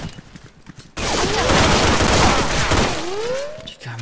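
Dense fusillade of automatic gunfire in the multiplayer shooter S.K.I.L.L. Special Force 2, a loud continuous burst of overlapping shots after a quiet first second, with whizzing tones sweeping through it.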